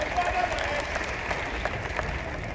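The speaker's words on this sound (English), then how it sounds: "Let's clap our hands to you" A crowd at a Ghanaian political welcome event claps for the former president, dense steady applause mixed with voices and cheering throughout.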